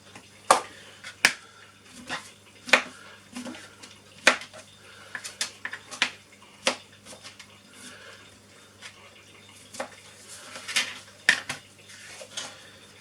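Mushrooms diced with a knife on a board for a beef and potato pie, a string of sharp close chopping taps in an uneven rhythm, some quick bursts, with quiet gaps between them.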